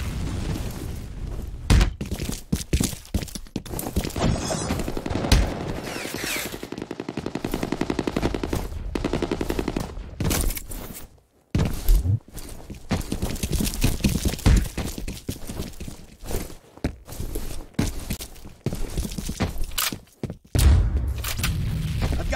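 Gunfire and a grenade explosion in the video game F.E.A.R. Combat, with repeated bursts of automatic fire, single shots and booming blasts in uneven clusters separated by brief quiet gaps.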